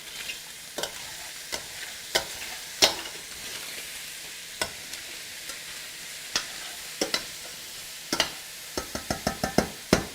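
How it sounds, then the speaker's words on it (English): Vegetables for dirty rice sizzle in a pan under a soft steady hiss, broken by sharp scraping stirs that come in a quick burst near the end; no one talks. "now that we got all our vegetables in, we just want to stir this up good."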